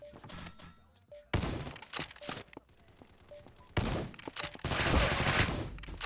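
Video game gunshots: several sharp, loud bursts and crisp individual shots separated by quieter gaps, with a long rattling volley toward the end and faint game tones between them.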